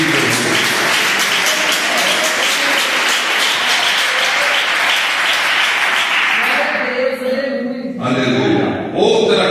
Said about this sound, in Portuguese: Palmas que glorificam.